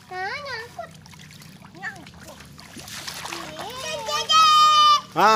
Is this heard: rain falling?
no